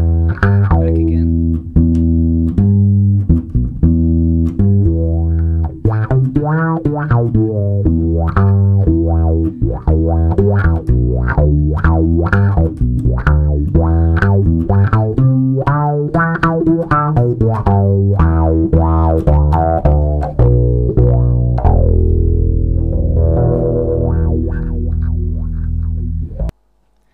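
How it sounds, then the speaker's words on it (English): A bass guitar played through a G-LAB Bass WOWEE-WAH effects pedal, plucked notes with a sweeping, wah-like tone in a steady, busy line that ends in a sustained, rumbling chord. "There's the G-LAB Bass WOWEE-WAH for you."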